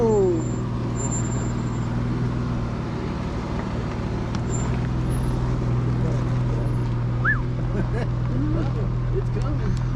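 Jeep crawling over a rocky canyon trail on the Shafer OHV Trail near Moab, Utah, with a steady loud engine drone and cabin rumble, and voices talking over it.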